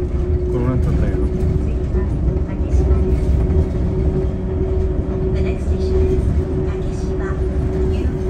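A steady rumble of a Yurikamome automated train in Tokyo running on its guideway, with a faint tonal whine and a voice talking over the constant noise.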